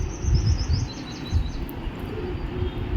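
A sparrow chirps in quick, faint high twitters outdoors over a steady low rumble of background noise.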